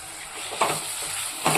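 Minced mutton keema hits a hot pan for an ivy gourd keema dish, giving a steady close sizzle broken by a couple of sharper stirring scrapes, with no one speaking.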